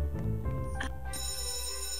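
A mobile phone rings from inside a pocket, a brief, bright electronic ringtone repeating over about two seconds, fairly clear with no talking.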